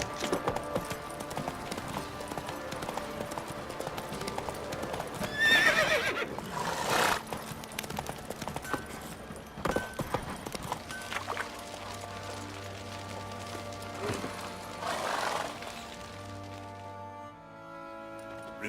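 Roach the horse neighing in The Witcher 3: Wild Hunt, two sharp whinnies over soft clip-clopping hooves and a quiet game ambience and music bed.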